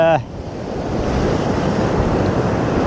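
Sea waves washing onto North Donmouth Beach in Aberdeen as the tide comes back in, a steady broad surf roar with wind buffeting the microphone, close and fairly loud.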